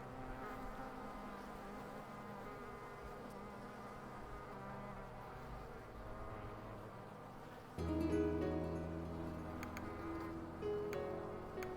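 Steady insect buzzing of big and tiny bees in the Hive Time hive-building video game, a continuous droning hum that grows louder and busier about two-thirds through, with no voices.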